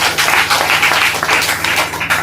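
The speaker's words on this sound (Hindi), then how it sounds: "हमारे गुरु के लिए जबरदस्त ताली" A short burst of audience clapping at a gathering, brisk and fairly close, steady for its whole length with no voices over it.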